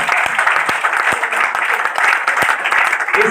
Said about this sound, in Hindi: ये सारी की सारी तालियां एक साथ एकजुट होकर आज अरविंद जी के खाते में दर्ज होनी चाहिए।